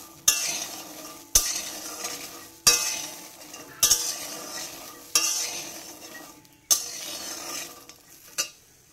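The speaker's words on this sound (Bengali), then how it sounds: "একটু ফ্রাই করে নেব" Nuts fry in a pan over low heat, with a steady faint sizzle beneath regular, sharp scrapes of a spatula stirring about every second, close and clear, with no voices.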